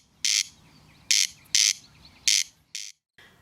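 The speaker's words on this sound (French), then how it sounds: "Le râle des genêts, ou roi des cailles pour les intimes" A corncrake calls in the Basses Vallées Angevines, giving a series of harsh, rasping double bursts repeated at a steady, uneven rhythm, fairly close and loud over a quiet background.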